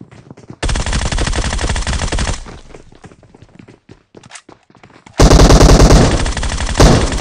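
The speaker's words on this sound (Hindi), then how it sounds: "जैसे वो ऊपर की साइड में आते हैं एकदम से फायर करते हैं" Sustained automatic gunfire in PUBG Mobile, two long loud bursts of rapid shots separated by scattered single shots and footsteps, no talk.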